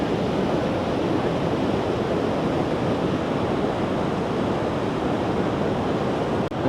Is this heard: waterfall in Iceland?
yes